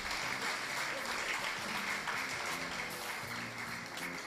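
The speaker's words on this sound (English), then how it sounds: "Please, another round of applause." An audience at an annual president's dinner and induction ceremony breaks into warm, sustained applause, a steady wash of many hands clapping at moderate volume, slightly fading toward the end.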